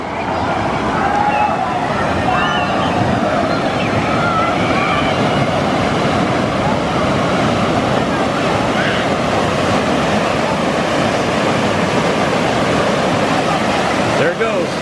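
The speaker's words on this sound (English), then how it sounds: "That wave is so big, it pulls the water away from here." Surf from the wave pool at Disney's Typhoon Lagoon water park, a loud, continuous roar of breaking and rushing water with wind-like noise and faint voices underneath.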